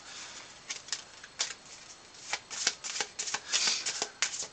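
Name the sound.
shuffling board game cards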